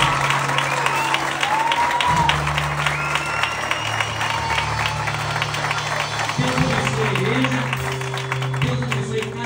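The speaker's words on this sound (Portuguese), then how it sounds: "E eu gostaria agora de finalizar ouvindo uma salva de palmas para Jesus agora." A church congregation claps together in sustained, even applause, with held musical tones from an instrument sounding steadily underneath throughout.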